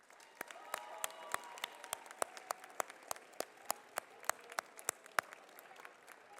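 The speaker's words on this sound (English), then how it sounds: "you need to give yourself a round of applause" A sparse audience at an athletic awards ceremony claps unevenly, with distinct individual hand claps popping out at a steady pace over a soft murmur of the room.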